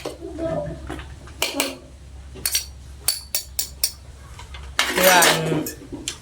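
Dishes and cutlery clatter and clink as food is put on a plate at home, in a string of sharp close knocks and scrapes with a louder rattle near the end and quiet talk in the background.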